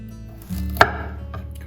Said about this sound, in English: Next, we're going to be chopping up some of the vegetables here. I'm using 1 carrot today.